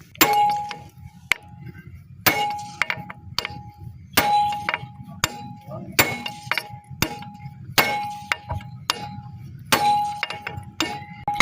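Metal tools clink and clang sharply in repeated bursts about every second or two while a wheel is taken off a Hyundai engine during a full service, each strike ringing briefly over a low background hum.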